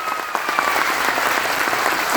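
Audience clapping at a Vestige business training meeting, a steady burst of many hands applauding together, fairly loud and continuous without talk.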